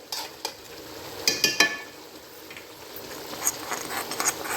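Cumin seeds and chili sizzling in a pot for chicken pota, with a steady frying hiss and a few sharp spoon clinks and stirring scrapes against the metal, heard close.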